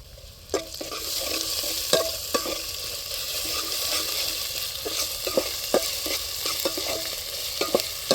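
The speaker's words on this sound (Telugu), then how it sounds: "అల్లం వెల్లుల్లిపాయ పేస్ట్ పచ్చివాసన పోయేదాకా బాగా ఎగిపోయిందండి" Ginger garlic paste frying with onions, green chillies and curry leaves: a steady, close sizzle runs throughout, broken by repeated sharp taps and scrapes of a stirring spoon against the pan, with no talking.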